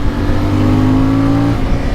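Loud, close engine drone of a CF Moto 450 Ibex motorcycle holding a steady revving tone for about a second and a half before the pitch shifts, with wind and road noise throughout.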